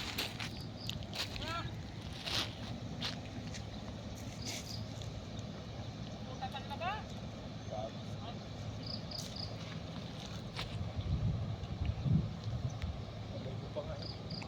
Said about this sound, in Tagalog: Malakas ang agos ngayon.